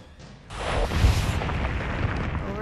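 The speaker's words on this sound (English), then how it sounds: "we're trying to avoid giant gunshots, which is always a fun thing" Giant gunshots in the video game Owlboy sound as a heavy booming blast that swells and rumbles on as a dense roar for a couple of seconds.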